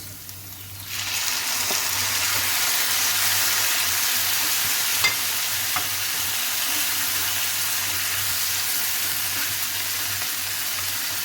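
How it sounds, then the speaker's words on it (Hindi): Tomato paste frying in a pan for shakshuka, a steady close sizzle and hiss that starts about a second in and continues evenly, with faint scrapes of stirring. "अब इसमें मैं ये टोमेटो पेस्ट ऐड करूँगी।"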